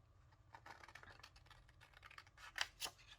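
Scissors snip through planner paper in a quick series of faint, crisp cuts, ending with two sharper snips.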